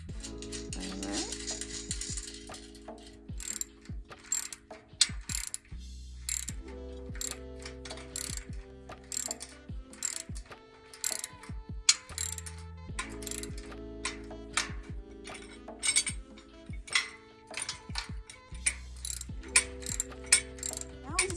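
A bolt with a washer being tightened on a gardening helper project, giving quick repeated ratchet clicks in bursts, close and fairly quiet, with steady low hum underneath and no talk.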